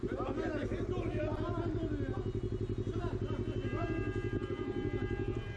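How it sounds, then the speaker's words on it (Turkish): A motorcycle engine idles nearby with a steady, fast low throb and a pulsing rhythm throughout, while voices talk over it. "Ya sen de kapat şu motoru ha."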